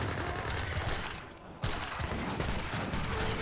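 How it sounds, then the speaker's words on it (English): Gatling guns firing in a large Age of Empires 3 battle, a dense crackling fusillade of rapid shots with a brief lull, then another burst, under faint game ambience. "as will some of the Gatling guns."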